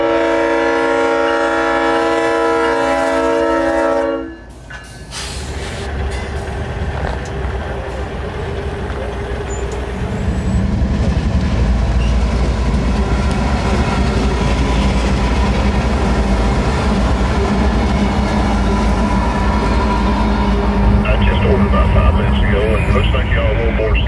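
A freight train with DPU locomotives sounds a long multi-note horn blast up front, then the horn cuts off and a loud, steady diesel rumble and rolling rail noise take over nearby, with people talking over it.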